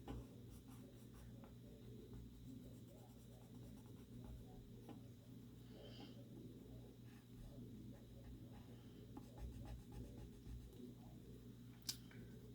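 A garden green colored pencil shading on paper for a magnolia coloring technique: soft, close, continuous scratchy strokes in a quiet room, with a faint click near the end.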